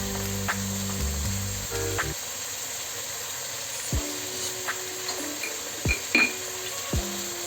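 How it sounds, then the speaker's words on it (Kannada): Washed chicken pieces hit a hot pan and set off a steady, close sizzle, punctuated by a few metallic clinks and knocks of utensils against the pan, with no talk. "ಈ ಟೈಮಲ್ಲಿ ನಾನು ತೊಳೆದಿಟ್ಕೊಂಡಿರುವ ಚಿಕನನ್ನು ಆ್ಯಡ್ ಮಾಡ್ತಾಯಿದ್ದೀನಿ"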